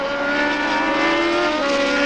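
Formula 1 cars at the 1979 German Grand Prix race past with a loud, sustained high-pitched engine scream, close and steady throughout with a slight shift in pitch.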